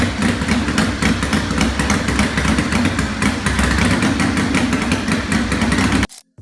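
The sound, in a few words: Harley-Davidson KR750 flat track racing motorcycle engine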